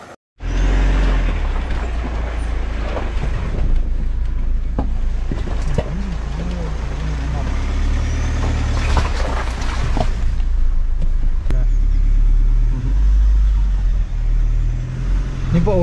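A vehicle engine idles steadily in a dense Tamil Nadu–Kerala forest, a continuous low rumble throughout with birds calling and people talking over it.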